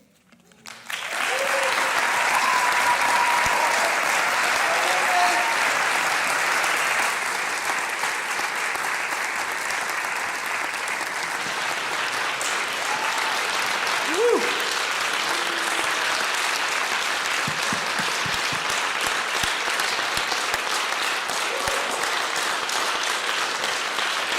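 An audience at a university event in the Northwest gives a loud, sustained round of applause for the speakers, starting abruptly and holding dense and even for over twenty seconds, with occasional whoops.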